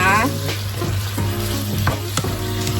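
Pork with crushed black pepper is stir-fried in a pan, a steady sizzle broken by scraping clanks of a utensil against the metal, close and loud with no talking.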